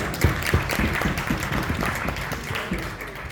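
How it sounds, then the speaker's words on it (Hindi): Crowd applause at a Rotary mental health panel discussion during a conclave, a steady wash of clapping with some distinct nearby claps, moderately loud and continuous. "इसका तालियां जोरदार हो"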